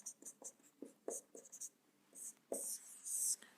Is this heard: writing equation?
yes